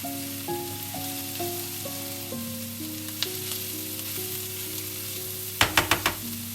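Bacon frying in a pan gives a soft, steady sizzling hiss beneath a slow stepped melody of instrumental music, with a brief cluster of sharp taps near the end.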